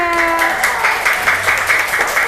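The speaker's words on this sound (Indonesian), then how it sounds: "beri tepuk tangan kelompok 2." A group claps together in a lively burst of applause, with some voices and a tone mixed in underneath.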